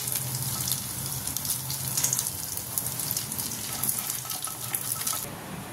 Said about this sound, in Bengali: আমি একটু ভেজিটেবিল চপ ভেজে নিচ্ছি